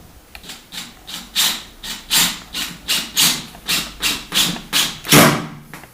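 Rhythmic rasping bursts repeat about a dozen times as a screw is driven into a wooden desk-top in short, steady pulses, close and fairly loud with no talking.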